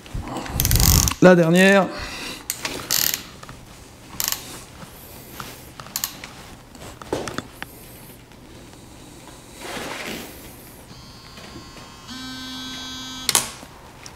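Bolts being tightened on a Renault R5 Turbo 2 engine block, with scattered close metallic ratchet clicks and tool knocks, short mechanical bursts, a whine near the end and brief French speech early on.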